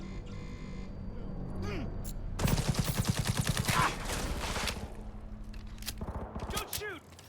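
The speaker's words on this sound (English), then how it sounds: "They're sniping me." Sniper and automatic gunfire rattles in the video game Cyberpunk 2077 Phantom Liberty, a rapid burst of loud shots in the middle amid game effects, with a player talking around it.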